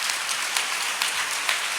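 A church congregation claps together for God during a Sunday service, a steady wash of hand claps at moderate level with a few louder bursts throughout.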